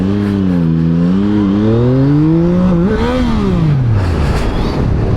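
A 2024 Yamaha MT-09SP motorcycle accelerates hard for a wheelie, its loud close engine note rising in pitch through the revs, dipping briefly at a shift, then climbing again before fading into rushing noise.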